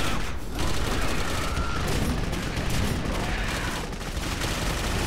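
Sustained rapid gunfire from the video game Clive Barker's Jericho, a dense and loud stream of overlapping shots and bursts that runs through the whole stretch, with a voice talking faintly underneath.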